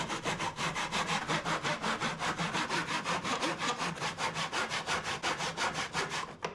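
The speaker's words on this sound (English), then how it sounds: "Let's start getting those cut out from our remaining 2x4." A 2x4 wood board is cut with a handsaw in a fast, even run of rasping strokes, about five per second, close and steady throughout.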